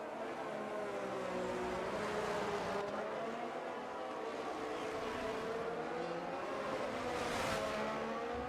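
Race cars sound in the pit lane of an Austrian Grand Prix in a racing video game. A steady engine drone stays loud and continuous, and the pitch rises and falls as cars pass, with no voices.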